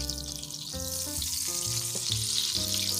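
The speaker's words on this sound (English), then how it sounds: "we're going to go ahead and add our tablespoon of butter, and we're just going to move it around until it melts in" Salted butter melts in oil in a pan for spaghetti with garlic and oil, giving a steady, close hiss and crackle of sizzling. Tonal background music plays underneath, and no one talks.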